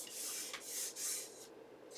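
Glued paper card pressed and rubbed onto a junk journal page, three or four soft, close, hissing strokes of paper sliding against paper, quiet and with no voice.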